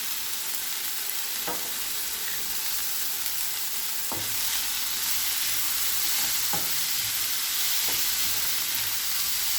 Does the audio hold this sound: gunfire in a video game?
no